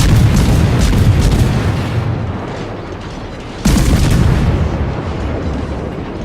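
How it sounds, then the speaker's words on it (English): Naval gunfire aimed at a Yamato battleship in World of Warships: two heavy, booming salvos, one at the start and another at about three and a half seconds, each followed by a rumbling decay, loud and with no talk. "Let's just keep firing at that Yamato."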